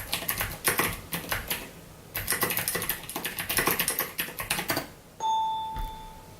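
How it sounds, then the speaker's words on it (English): Rapid clacking keystrokes on a computer keyboard come in bursts with a short pause, close by, then a bright electronic chime rings out and fades. "So I'm going to type that in."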